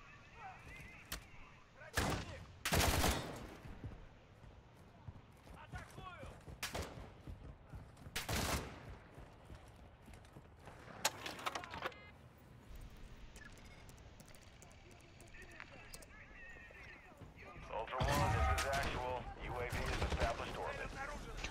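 A precision airstrike in the Call of Duty DMZ game lands as a burst of heavy explosive booms and gunfire-like blasts, some loud and close, others scattered, with rumbling game noise between them and voices talking over parts of it.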